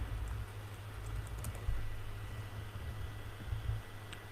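Fingers type a search on a computer keyboard, producing a quiet, steady patter of key clicks over a low hum, with a few slightly louder presses.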